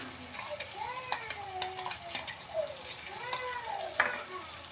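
Garlic and fenugreek paste frying in a gravy with onions, giving a steady soft sizzle while a spoon stirs the pan, with someone speaking over the cooking.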